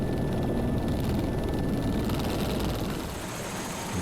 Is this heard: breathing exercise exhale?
no